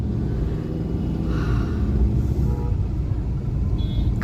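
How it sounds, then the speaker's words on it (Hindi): Heavy traffic jams at a railway crossing in Ranchi at night, with a deluxe air-conditioned bus among the vehicles: a continuous low rumble of idling and creeping engines, dense and steady, with faint brief horn-like tones and no voices. "देखिए गाड़ियों की भीड़ भड़ाका है ना"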